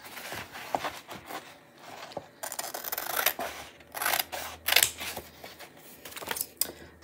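Paper or card stock being cut with scissors during a chalk-stencil craft session, a run of close crisp snips and rasping slides, loud and irregular, with no talking.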